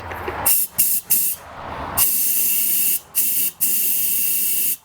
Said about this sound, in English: I just grab my blowgun here and I'll just gently blow a few puffs of air in the fuel tank